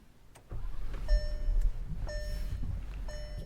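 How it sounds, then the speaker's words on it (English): A 2022 Volkswagen Atlas Cross Sport engine turns over and settles into a low idling rumble, while a few soft electronic chimes ring out at regular intervals. "let's go ahead and turn the car on."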